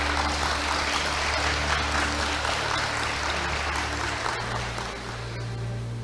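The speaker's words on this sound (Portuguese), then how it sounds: "Vamos aplaudir a palavra do Senhor." Church congregation applauding together, a dense steady wash of many hands clapping that keeps going throughout at full strength, with a low hum beneath.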